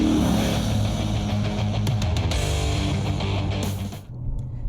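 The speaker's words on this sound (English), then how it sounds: "It's a V8 engine after all, and it's meant to be heard." Lexus RC F Carbon V8 engine heard from inside the car, a loud, steady low rumble with a continuous droning tone that briefly dips near the end.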